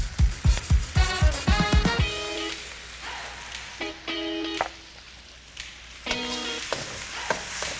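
Calabrian chili paste and capers in a hot pan with sautéing onions, garlic and shrimp: a soft, steady sizzle up close, with a quick run of spoon scrapes and stirring clatter at the start and a few more later.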